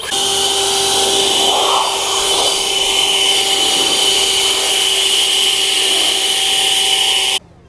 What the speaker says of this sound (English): Now you can audibly hear the difference in tone going with this shorter nozzle.